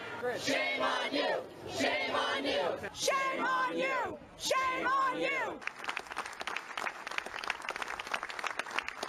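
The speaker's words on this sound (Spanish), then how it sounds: "un grupo de manifestantes gritaba a los congresistas la palabra vergüenza" Protesters outside the US Capitol shout in unison at Republican congressmen, loud rhythmic chanting by a crowd that gives way to scattered clapping and cheering.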